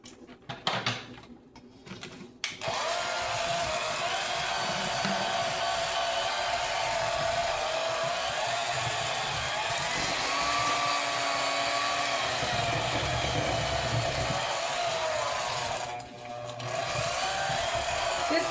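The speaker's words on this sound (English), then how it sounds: "This is an antique mixer like I am. I've used this mixer my whole life." An antique electric kitchen mixer runs steadily for most of the stretch, creaming molasses cookie dough's wet ingredients with an egg, a continuous whirring motor drone close by with a brief stop near the start and a slight dip later.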